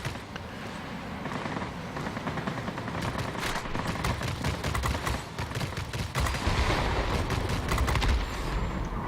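Cannons of a Hawker Hunter, a tier X multi-role jet fighter in the video game World of Warplanes, firing on ground attackers: a continuous rapid rattle of shots over engine roar, holding steady and growing slightly louder toward the end.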